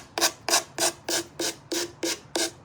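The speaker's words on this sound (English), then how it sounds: "So we're just sanding off this edge." An edge is sanded by hand in nine even back-and-forth strokes, each a short, close, scratchy rasp separated by brief pauses in a steady rhythm.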